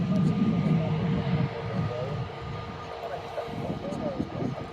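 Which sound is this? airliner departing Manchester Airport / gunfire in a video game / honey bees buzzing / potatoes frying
airliner departing Manchester Airport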